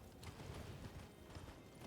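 Horse hooves in the video game Elden Ring: a soft, steady clip-clop of hoofbeats, faint and repetitive, with no voices over it.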